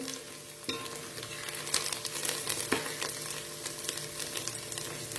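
Onions and peanuts sauté in a pan, a continuous soft sizzle with occasional scraping stirs and clinks of a spatula, fairly quiet and close with no talking.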